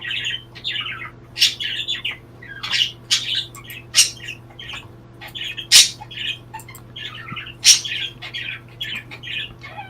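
Birds chirping and squawking close by in a series of sharp, irregular calls over a low steady electrical hum, with no voices.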